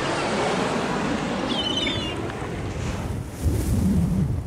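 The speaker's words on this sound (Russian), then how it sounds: "Вот это волна!" A big ocean wave in a cartoon sounds as a wind-blown surf rush that swells and fades, then a deeper surge rolls in near the end, with no talking over it.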